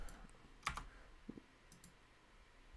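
Typing on a computer keyboard: a few sparse, faint key clicks, one sharper tap then scattered lighter presses, close but very quiet, with no talk.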